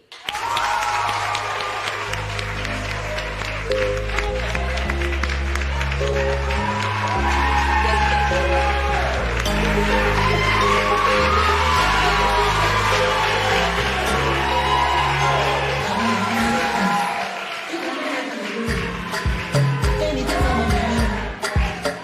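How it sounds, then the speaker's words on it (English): A studio audience on a TV talent-search show applauds and cheers a contestant being introduced, with steady loud clapping and whoops filling the full stretch over music, fading briefly near the end. "Ladies and gentlemen, a round of applause for our next contestant, Kiki"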